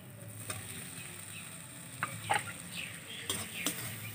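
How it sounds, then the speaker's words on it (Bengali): Chopped tomato sautés with spices in a pan as a faint, low sizzle under a few soft spatula scrapes and clicks, quiet and without talk. "তো টমেটোটাকেও মশলার সঙ্গে ভালো করে কষিয়ে নেব"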